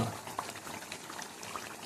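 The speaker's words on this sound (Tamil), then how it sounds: "இப்போ பார்த்தீங்களா நல்லா கொதிச்சு வர்றது தெரியுதா?" Chicken gravy boils in a pot with a dense, continuous bubbling and popping, soft and close, with no talking.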